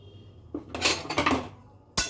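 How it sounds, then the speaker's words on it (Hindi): A spoon scrapes and clanks against a pan while grated coconut is dry-roasted and stirred, with a few short bursts of metal-on-metal stirring close by. "तो मैंने नारियल को थोड़ा भूनना है।"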